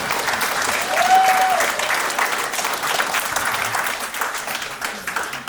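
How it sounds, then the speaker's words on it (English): A wedding audience applauds after the speeches, a sustained dense round of clapping from many guests filling the room for several seconds. "please give me a round of applause for putting this together so beautifully"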